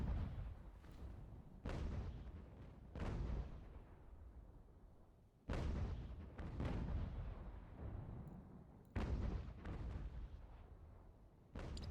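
Cannons boom in an American Revolution strategy game, several heavy blasts a second or so apart, each with a long rolling decay, loud and close with no voices over them.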